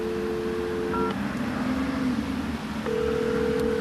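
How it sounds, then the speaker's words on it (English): Electronic telephone tones sound at the start, then a short pause and another steady tone near the end, like a phone line during dialing. "I'll dial the operator again."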